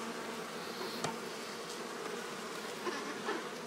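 Honey bees buzzing around an open beehive, a dense continuous hum of many insects close by, steady and moderately faint with no talking.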